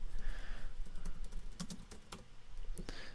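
Someone types a search into Canva on a computer keyboard, giving a run of quiet, close key clicks in an irregular patter with a few sharper taps. No voice is heard.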